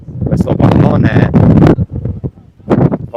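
Strong gusts buffet the microphone in loud, uneven bursts at an under-14 regional youth football match in Sicily, with a commentator talking over the wind.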